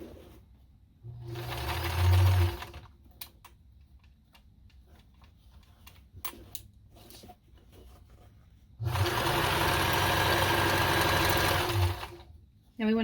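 Sewing machine stitching fabric for a bag, with two loud steady runs separated by a stretch of faint clicks and handling while the machine stalls and the fabric is adjusted.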